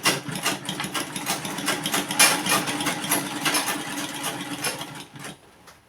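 A sewing machine running steadily while topstitching a crop top, a close, fast mechanical whirr with rhythmic clatter of needle and gears that slows and stops near the end.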